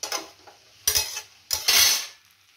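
Spices sautéed in a pan for panchmesali torkari, with three separate bursts of a utensil scraping and clattering against the pan and a light sizzle between them, close by and with no talking.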